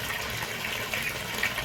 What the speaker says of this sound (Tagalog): Malakas yung bagsak ng tubig ngayon